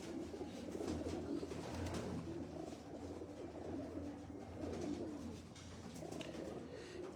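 A flock of pigeons coos continuously, low throaty calls overlapping in a steady, dense murmur at close range with no voices.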